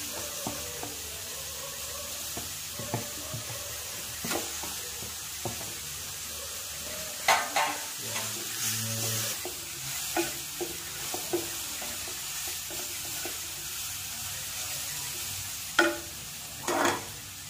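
Fried sweet corn and tomato are stirred in a frying pan for a paneer dish, with soft background sizzle broken by sparse spoon scrapes and clinks, louder bumps near the end.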